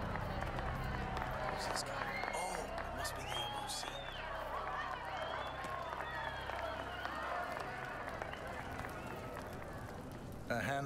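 A crowd cheers and applauds at an Ark Society gala in Hitman 2, a dense, steady wash of clapping and voices that holds at the same level from start to finish.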